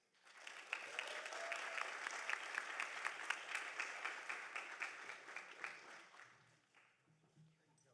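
Audience members at a university sustainability summit applaud an award winner, a crowd of hands clapping steadily with some distinct individual claps near the front, building quickly and fading out in the last two seconds.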